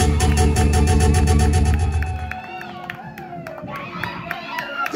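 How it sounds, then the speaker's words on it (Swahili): Students at a Media Day celebration at the University of Iringa clap and cheer in a lively crowd after loud music with a strong beat cuts off, with scattered shouts and claps carrying on. "Nafikiri hilo ni swala la kujipigia makofi sana sisi wanafunzi"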